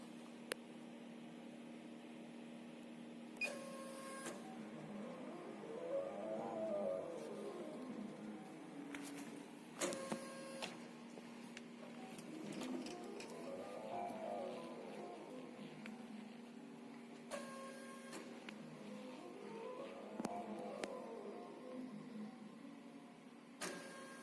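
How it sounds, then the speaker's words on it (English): An automatic end ring equal division line drawing machine runs steadily with a low mechanical hum, rising and falling motor sweeps and periodic sharp clicks or knocks, quiet and continuous with no voices. "the machine starts automatic operation with one-button control"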